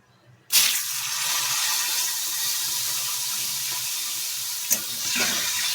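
Chickpeas drop into hot oil with dried red chilli and bay leaf, bursting into a sudden loud, steady sizzle close by, with a couple of brief stirring clatters near the end.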